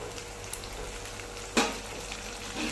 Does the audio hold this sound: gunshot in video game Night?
no